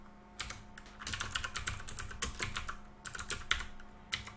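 Fast, uneven key clicks rattle across a computer keyboard as salary figures are entered, a close, steady burst of typing with brief pauses and no talk.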